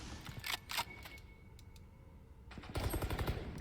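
Rapid gunfire from Valorant, a first-person tactical shooter, in a quick burst early on and a denser, louder volley near the end, separated by a quieter gap of faint game sound.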